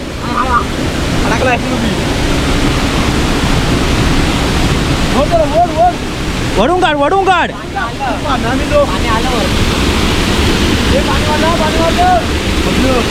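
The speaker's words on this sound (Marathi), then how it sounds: "पाणी वाढत चाललंय" A flooded river rushes loudly and continuously in a broad roaring wash, with people calling out and talking over it throughout.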